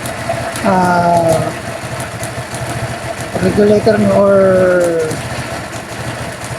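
A motorcycle engine idles steadily during a battery voltage check, a low hum running under continuous talk.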